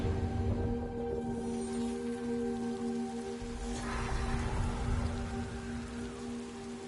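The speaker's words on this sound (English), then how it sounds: "Raindrops are falling on my head." In the video game Death Stranding 2, rain falls in a steady, even hiss with pattering drops on surfaces, laid over low sustained musical tones.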